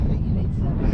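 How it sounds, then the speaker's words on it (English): Strong wind buffets a microphone outdoors on a fishing bank, a dense low rumble roaring continuously throughout the second. "It's too windy."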